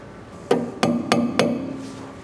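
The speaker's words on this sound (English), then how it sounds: "you're going to grab your cotter pin, your little hammer, just to tap it in there sometimes" A small hammer taps a cotter pin into a boat propeller: four sharp metallic taps, close and evenly spaced, each ringing briefly in a quiet shop.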